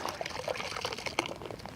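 Warm water poured into a 3-gallon bucket, a short splashing, gurgling pour that is close and fairly quiet.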